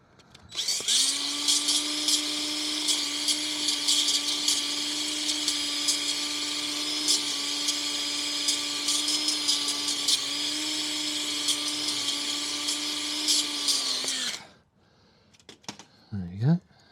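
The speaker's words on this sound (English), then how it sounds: "I'm going to quickly grab the drill." A power drill whines steadily for about fourteen seconds, close and loud, while cleaning up an engine part on a rebuilt Mini Cooper S R53; it then spins down and stops, followed by a few faint handling noises.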